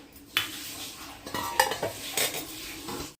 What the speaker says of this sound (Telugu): ఇప్పుడైతే చికెన్ పకోడీకి అయితే మసాలా అయితే కలిపేస్తాం.